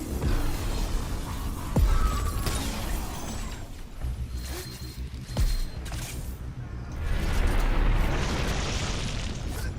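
Explosions erupt in the video game Crackdown 3: deep booms and sharp blasts go off at intervals over a rumbling roar of combat, with a large swelling burst near the end.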